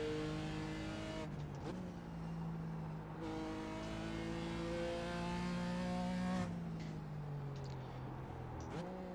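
A GT4 race car engine in an iRacing race at Mid-Ohio, seven laps in, holds a steady drone that rises and falls as the driver shifts gears and works the throttle through corners, with brief lifts and tire noise, continuous and close.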